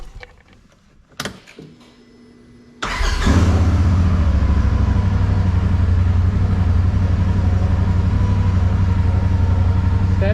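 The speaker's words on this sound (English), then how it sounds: "Let's crank it up." A Polaris RZR Pro XP sport side-by-side cranks over after a few quiet clicks and shuffles, then fires and settles into a loud, steady, throaty idle that continues to the end.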